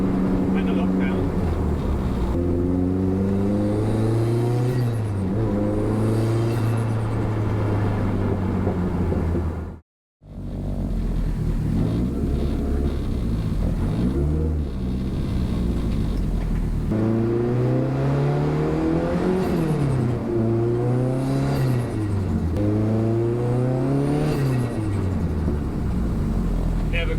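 A car engine fitted with wrapped exhaust revs up and down in repeated rising and falling sweeps, loud and close, with one brief cut to silence partway through.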